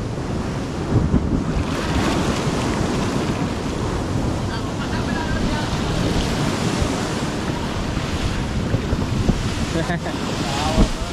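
Seawater surging and gushing up from a spring among seaside rocks, a steady loud wash of churning water with wind buffeting the microphone throughout.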